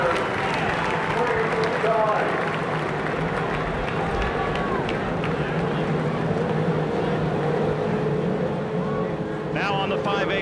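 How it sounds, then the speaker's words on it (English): The 33 race cars on the grid fire up and roar at the start of the 1995 Indianapolis 500 on the main stretch of the speedway: a loud, sustained mass of engine drone with rising revs and crowd noise. "the engines begin to roar as all 33 respond to Mary Holman's command"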